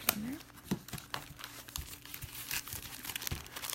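Plastic packaging of a craft kit crinkles and crackles up close as it is handled and pulled open, with a few sharp rustles and tearing sounds.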